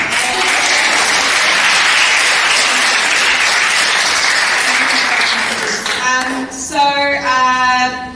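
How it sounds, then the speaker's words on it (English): Audience applause at a poetry open mic night in a gallery, steady and dense for about six seconds before fading as a voice begins speaking over the tail. "can we do another round of applause?"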